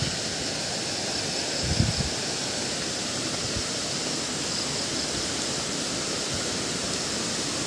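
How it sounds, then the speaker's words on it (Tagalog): Malatongtong Falls, a waterfall, gives a loud, constant roar of rushing water, heard close and unbroken, with a few faint low thumps. "Ito yung Malatongtong Falls."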